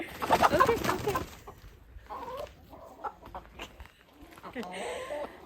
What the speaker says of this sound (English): They're Bantam cochins, like I said. Bantams basically are, in my mind, miniature chickens.